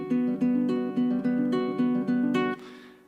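Plucked strings played note by note in a steady repeating picking pattern, bright and clear, ending with a final strummed ring.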